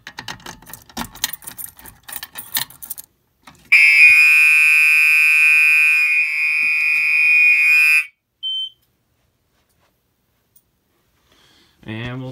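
Fire alarm system sounding after a manual pull station is pulled during a test: clicking and handling noises give way to a loud, steady electronic tone for about four seconds, then a short chirp and silence.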